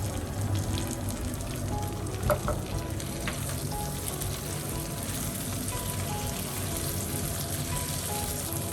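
Tomato paste and garlic sizzle steadily in a hot pan for a vegan eggplant stew, a constant close frying hiss with faint clinks of stirring and no talk.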